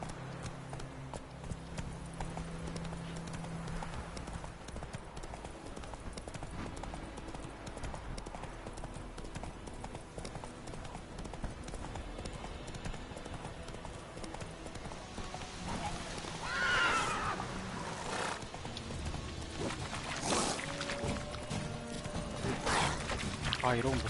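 The horse Roach gallops in a video game with rapid, rhythmic hoof clip-clop and whinnies clearly near the end, while a player talks over the action and game sounds.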